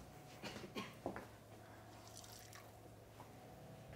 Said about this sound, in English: I'm just gonna get a little more water because it's settling a little thick.